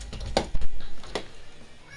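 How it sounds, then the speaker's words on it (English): A house cat meows at a moderate distance in a quiet room, giving a couple of short calls between low background noise. "Sorry, that was the cat."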